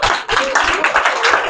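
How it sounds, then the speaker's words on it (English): Students at a career day talk clap their hands in a quick, uneven burst of sharp claps, fairly loud and close, lasting about a second and a half. "Clap for yourself."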